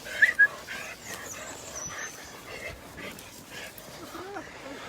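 A dog barks during a morning walk: two sharp yips near the start, then scattered whimpers and small yelps, fairly faint, with outdoor background noise.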